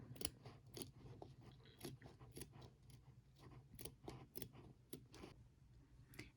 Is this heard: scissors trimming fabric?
yes